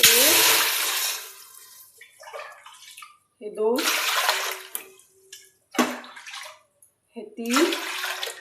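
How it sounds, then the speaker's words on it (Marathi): Water is poured from a bowl into a vessel for making sabudana papad, in several separate splashing pours with short pauses between, while a voice counts the bowlfuls. "आता आपण पाणी ओतून घेऊया।"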